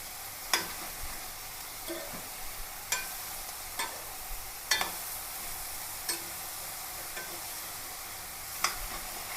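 Ridge gourd sizzles steadily in a pan over low heat while a utensil scrapes and stirs at irregular intervals, sharp clicks rising above the constant frying hiss.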